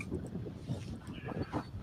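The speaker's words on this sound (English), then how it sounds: "It's cold and windy" Cold, stormy wind blowing outdoors in a steady broadband rush with gusty swells, buffeting the microphone close up.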